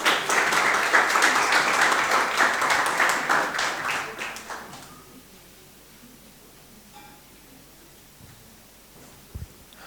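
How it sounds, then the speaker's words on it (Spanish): An audience applauds a speaker at a talk about water, a dense burst of clapping for about five seconds that quickly dies away into quiet room noise. "Un aplauso para el ingeniero Miguel"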